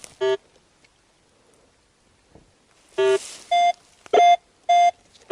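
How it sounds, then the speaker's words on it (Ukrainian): Metal detector sounding a series of tonal beeps while sweeping during a search in the Carpathian mountains: one short beep near the start, then a longer burst followed by four to five loud, evenly spaced beeps. "Отут гігантський сигнал просто, неймовірно."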